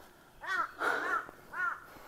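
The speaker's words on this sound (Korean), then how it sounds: "또 까마귀가 있나봐." A crow caws three times on a mountain trail at Daedunsan, the harsh, nasal calls loud and fairly close, with short pauses between them against a quiet outdoor background.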